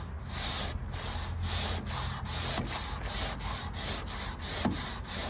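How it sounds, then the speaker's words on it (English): Hand sanding over a repair on a VW Transporter rear door, a close, rhythmic series of about a dozen abrasive back-and-forth strokes with a steady, even pace. "Because if you just sand down in the repair, you're not going to get any of these bits flat into the paint."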